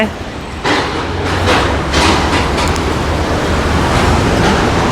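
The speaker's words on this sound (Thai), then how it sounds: "อันนั้นคือรถไฟฟ้า" Steady low rumble of an elevated electric skytrain rolling past, loud and continuous throughout, with broadband rail noise rising after the first moment.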